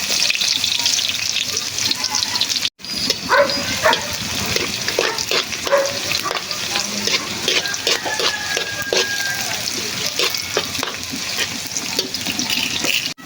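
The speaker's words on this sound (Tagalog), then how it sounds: "Pagsabayin na natin tong sibuyas, bawang at saka isang sili." Onion, garlic and a chili sautéing in a pan, a continuous close sizzle broken by repeated stirring clatter and scrapes, briefly cut off near the start.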